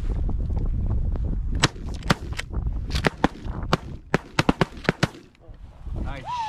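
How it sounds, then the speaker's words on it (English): Shotguns fire during a goose hunt, about a dozen sharp, loud reports in quick irregular bursts over a few seconds, near and distinct over a rough outdoor background, with a voice briefly heard at the end. "Nice shots. Good shooting. Nice shooting."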